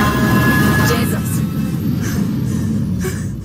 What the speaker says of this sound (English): No, I believe that was a train.